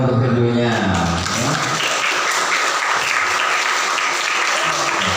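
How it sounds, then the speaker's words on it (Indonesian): Applause from a school audience at a prayer training session, a dense steady clapping that fills the whole stretch, following a brief voice at the start. "Iya, tepuk tangan dong untuk keduanya."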